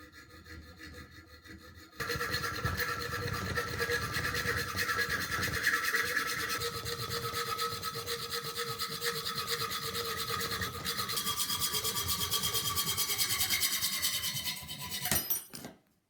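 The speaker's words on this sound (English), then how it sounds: "I have my copper handle here ready to be cut down." A copper knife handle for a WWI-style brass-knuckle trench knife is being sawn, with a steady, continuous rasping back-and-forth cut that starts abruptly after a quiet moment and stops near the end.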